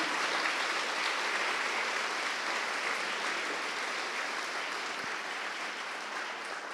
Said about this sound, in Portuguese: Se você crê, pode dar o seu melhor aplauso a Jesus